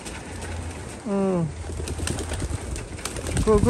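Racing pigeons at a club training session coo and flutter in a steady outdoor din, with a clear bird call rising midway and scattered wing and movement noise, while a person speaks intermittently.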